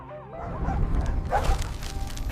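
Several dogs bark and yip in a loud, busy flurry, with whimpering mixed in over a low rumbling background.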